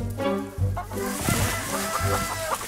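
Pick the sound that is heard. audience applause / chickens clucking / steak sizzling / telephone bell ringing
chickens clucking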